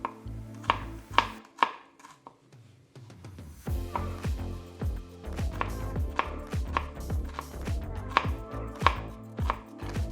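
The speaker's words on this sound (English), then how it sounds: "So take our onion, finely chop it." A knife finely chopping an onion on a cutting board, rapid rhythmic taps in clustered bursts after a short quiet pause, close and clear with no talking.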